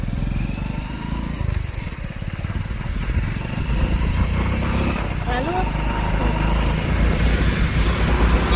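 A vehicle engine idles close by with a steady, rough, low rumble that holds unbroken for over eight seconds, while voices talk faintly underneath.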